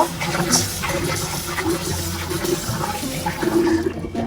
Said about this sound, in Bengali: তো আমি এখন ডালটা ধুয়ে পরিষ্কার করে নিব।